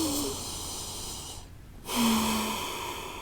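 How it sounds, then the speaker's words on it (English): Slow, deep breaths taken during a prenatal yoga pose on the forearms, with a long audible exhale, a short quiet pause, then another slow breath, close and soft with no talking. "let's take 3 slow rounds of breath here."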